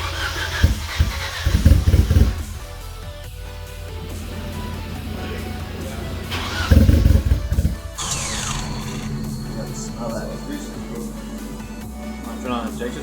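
A rebuilt Mitsubishi DSM engine on its first start attempt after a four-year build, with two bursts of starter cranking and engine noise amid workshop clatter and people talking nearby.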